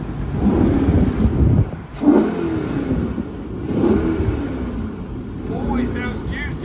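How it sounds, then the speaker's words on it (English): Twin engines of a Fairline Targa 40 motor cruiser fire up and settle into a deep, throaty rumble with a couple of revving surges, heard close and steady under intermittent talk. "we've started the engines up"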